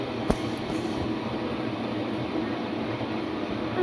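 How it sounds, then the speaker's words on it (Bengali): A low, steady rail rumble, like a train drawing closer, runs throughout with a faint mechanical hum and a single short clank near the start. "যে ট্রেন আসছে এখন"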